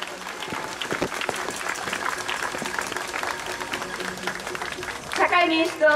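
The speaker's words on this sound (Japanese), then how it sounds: "拍手で応えましょう。" A crowd at a 2016 peace and anti-constitutional-revision rally applauds steadily, with dense overlapping claps, while a voice speaks over them and the clapping swells toward the end.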